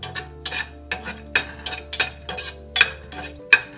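Whole cinnamon, cloves and black and green cardamom are stirred in hot oil, giving a run of sharp, evenly spaced metal spoon clinks against the pan over a faint low hum.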